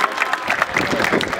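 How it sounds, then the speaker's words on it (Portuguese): An audience at a Brazilian street rap battle claps and cheers for the contestants in a short, dense burst of crowd applause. "bate palmas pra esses caras aí,"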